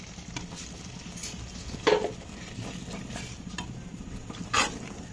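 Boiled red kidney beans being stirred with masala in a pan for Goan feijoada, with soft scraping and a couple of sharper spoon clinks against the pot, quiet and without talk.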